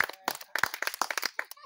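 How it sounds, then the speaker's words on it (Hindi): Hand claps ring out close by in an irregular series of sharp, separate slaps during a street magic show, with short gaps between them and nothing else much beneath. "एक दो ताली बजाओ"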